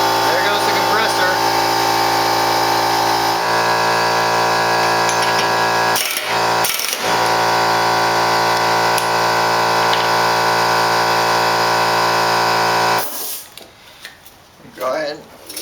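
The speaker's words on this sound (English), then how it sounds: "There goes the compressor." A small air compressor runs as a loud, steady mechanical hum with a constant pitch throughout, cutting off abruptly near the end, with a couple of short dips partway through; a person speaks over it.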